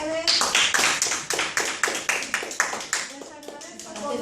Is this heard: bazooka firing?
no